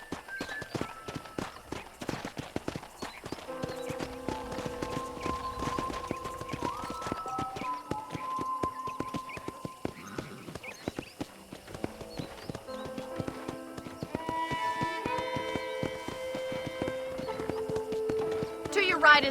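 Horses walking in the Western video game Red Dead Redemption, with steady clip-clop hoofbeats running throughout under a musical score, while voices talk over them.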